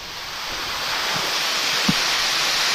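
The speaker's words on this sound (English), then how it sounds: "Waterfall below me, waterfall behind me." Waterfall deep in a Gold Coast jungle, a steady, loud broadband rush of falling water that fills the scene without break, with a couple of faint low knocks and no talking.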